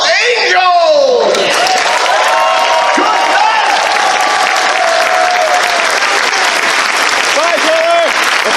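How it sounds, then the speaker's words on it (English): Loud, full applause from a large crowd at the MFF 2019 closing ceremony, sustained and dense throughout with cheering and shouted voices mixed in over the clapping. "give one final round of applause"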